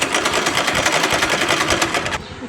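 Sewing machine doing home tailoring work, running steadily with a fast rhythmic whir that is loud and close, then stopping abruptly near the end.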